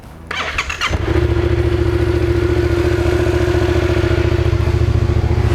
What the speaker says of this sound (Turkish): Şimdi motoru bir 5-10 dakika civarı çalıştırıyorum, ısıtıyorum çalıştırıyorum.